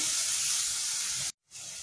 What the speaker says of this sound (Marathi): टोमॅटो सुद्धा जरा परतायचा आहे